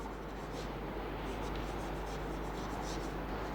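Someone writes an answer by hand during a place-value maths lesson, making a faint, steady scratching that runs quietly and evenly without pause, with no talk over it.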